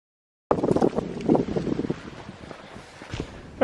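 Gusty wind on a forest hiking trail to Buzzard Rock in George Washington National Forest on a breezy 32-degree morning, rushing broadband against the microphone in uneven surges, loud at first and then easing to a steadier blow.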